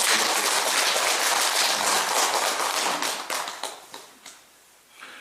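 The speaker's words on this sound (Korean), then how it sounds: "우리 주지 스님에게 박수를 한번 쳐주셨으면" Audience applause for the head monk at a Buddhist temple Dharma lecture gathering, a burst of many clapping hands that thins into scattered last claps.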